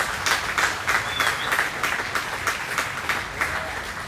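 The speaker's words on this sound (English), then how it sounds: "all of you owe a round of applause to yourselves, to your advisors, to your families" A large audience applauds steadily at a state fair FFA awards show, a dense wash of clapping held at even loudness throughout with no speech over it.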